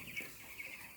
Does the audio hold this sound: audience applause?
no